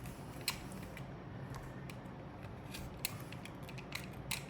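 Utility knife blade cutting through shoe material along the edge, with a steady close scratchy cutting texture and a few small sharp snips and clicks, no talking.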